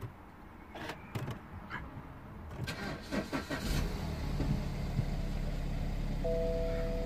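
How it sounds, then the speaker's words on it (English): A BMW 320i E90 car engine cranks with a few quick clattering turns, then catches and settles into a steady low idle, with a faint electronic chime near the end. "Let me actually start the car."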